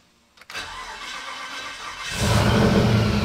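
A click, then a car engine cranks and catches, settling into a steady idle before rising to a louder, fuller hum near the end.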